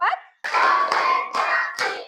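Rhythmic hand clapping in a classroom counting game, in short bursts, four or so sharp claps spaced evenly, close and loud.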